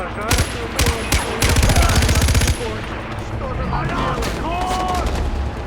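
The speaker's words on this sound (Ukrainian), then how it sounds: "Так, хто стріляє?" Bursts of rapid automatic gunfire from the video game Far Cry 4 crackle in quick succession, then give way to a quieter stretch of scattered ambient noise.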